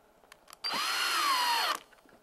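A power driver briefly whirs as it fastens a micro adjuster screw into a Peachtree dovetail jig, a single rising whine lasting about a second between faint clicks, close and alone.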